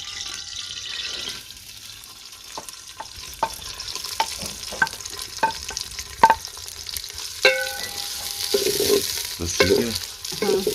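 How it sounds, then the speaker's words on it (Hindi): Onions frying in a pan on a stove in a rural Cholistan kitchen, with a steady sizzle behind repeated sharp scrapes and clinks of a spoon stirring against the pan, plus some watery splashing toward the end. "डाल दो प्याज।"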